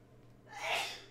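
One sharp sneeze bursts out close by, a short breathy rush lasting under half a second, at a Pokémon trading card tournament table, with no talking.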